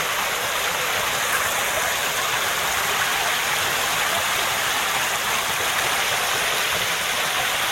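A small creek waterfall beside a bridge pours with a steady, dense rushing hiss that stays loud and close and unbroken throughout, with no voices.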